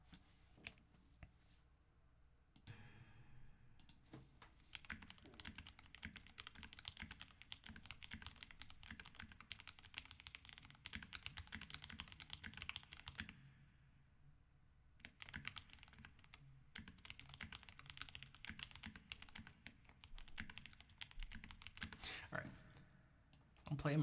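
A computer keyboard is typed on in bursts of rapid clicking keystrokes, close and fairly quiet, with short pauses between the runs.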